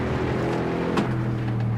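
A car engine in the Assetto Corsa racing game drops off as the throttle eases, a steady, loud droning hum with a low tonal buzz that holds evenly throughout without any talk.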